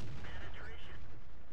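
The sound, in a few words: artillery fire in World of Tanks video game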